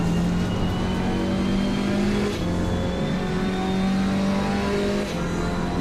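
A damaged GT4 race car engine revving at Kyalami in the racing game Assetto Corsa Competizione, a loud steady drone whose pitch climbs and drops with gear changes, sounding sluggish and held back.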